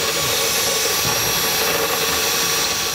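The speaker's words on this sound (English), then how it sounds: "I'm gonna use a burr bit on a drill and just kind of work this out until I can get these fit" A drill spinning a burr bit to enlarge a bolt hole in the frame during a trailer hitch install on a 2018 Fiat 124 Spider, heard as a steady, loud mechanical whine and grind that runs without a break.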